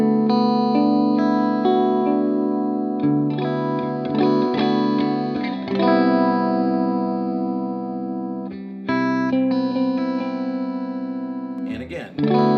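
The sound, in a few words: electric guitar with effects playing D6-9 chord progression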